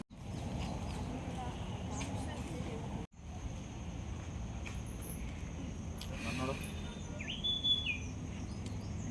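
Birds chirping at Varuna lake near Mysore, scattered tweets and calls over a steady outdoor hum with a brief break, faint to moderate and somewhat distant.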